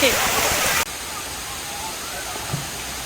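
Sai Yok Noi waterfall in Kanchanaburi roars loudly as water flows down for the first second, then gives way to a quieter, steady wash of flowing water nearby.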